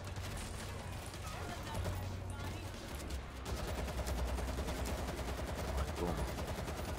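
Rapid AK-47 automatic fire in the World War Z zombie shooter, dense continuous bursts with a steady roar of game noise and a horde in the background, loud and sustained throughout.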